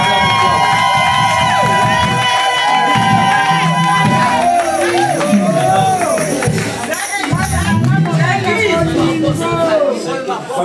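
A church congregation at a wedding cheers and acclaims loudly and continuously, many voices shouting, ululating and calling out together in a dense, sustained roar.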